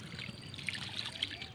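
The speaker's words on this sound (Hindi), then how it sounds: "ये देखिए इस प्रकार से पानी को डालना है, डायरेक्ट पानी नहीं डालना है" Water poured by hand onto seed-starting soil for petunia seeds gives a soft, steady trickle with small splashes, faint and close, with no talking.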